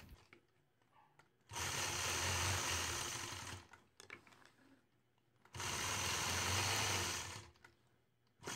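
A sewing machine quilting a fabric block runs in two steady bursts of rapid whirring stitching, each lasting a couple of seconds, with quiet pauses and small handling noises between them.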